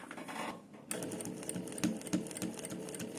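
A domestic sewing machine stitches fabric along a half-inch seam line, its motor whirring in close, steady bursts with a few brief rhythmic needle clatters, no talking.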